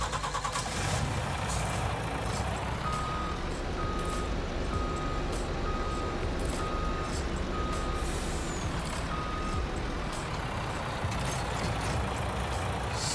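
Truck in Farming Simulator 19 sounding its reversing alarm, a steady series of evenly spaced beeps over a loud, constant engine rumble.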